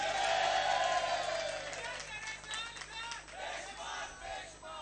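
A large crowd at a political rally in Karachi roars and shouts together, loud at first and then fading into a broad, rowdy murmur with scattered whoops, heard from within the gathering.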